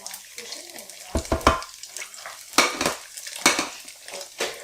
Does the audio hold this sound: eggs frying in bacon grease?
yes